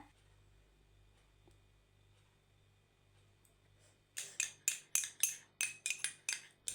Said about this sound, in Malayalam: ഇനി ഇതിലേക്ക് ഞാൻ കുറച്ച് തേനും കൂടെ ചേർത്തിട്ട് നന്നായിട്ടൊന്ന് മിക്സ് ചെയ്യാനായിട്ട് പോവാണ്